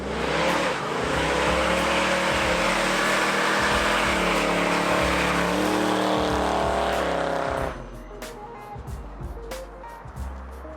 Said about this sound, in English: Right next to me we have a 1971 Chevrolet Chevelle.